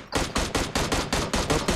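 Rapid automatic gunfire in the mobile video game PUBG Mobile, nine loud close shots in an even quick rhythm with no talk over them.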